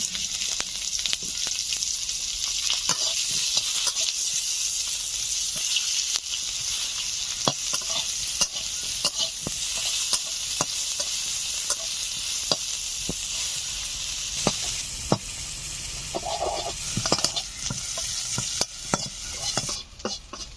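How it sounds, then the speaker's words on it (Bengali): Onion, garlic and ginger fry in oil left in a kadai after eggs were fried, making a constant hissing sizzle with frequent spatula scrapes and clicks, close and steady for about twenty seconds. "পেঁয়াজ, রসুন, আদা হালকা করে একটু ভেজে নিয়েছি"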